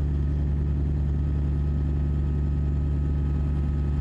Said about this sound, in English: I'm gonna let the throttle off here, the turbo wind down